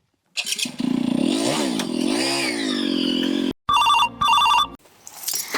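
An electronic phone ringtone chirps in two short bursts, following a loud revving motor-like sound, fairly close and clear.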